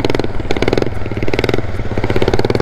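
Homemade snow mower built from leftover parts, its small engine driving and revving in pulsing bursts, loud and close, with no talking.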